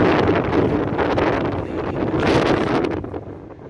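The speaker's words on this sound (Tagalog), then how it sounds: "Malakas talaga ang hangin guys." Strong typhoon wind buffets the microphone in loud, roaring gusts, easing briefly midway and fading slightly at the end.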